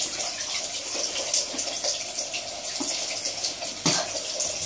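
Water runs steadily from a tap as someone washes after breakfast during a morning routine, a continuous close hiss with brief splashes and a louder burst near the end, with no talking.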